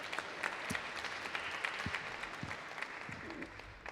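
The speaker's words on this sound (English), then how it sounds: "Let's give them a round of applause and thank them as well." Outdoor crowd of volunteers at a Los Angeles city day-of-action event clapping, a fairly faint, scattered applause with a few sharp individual claps and low background noise.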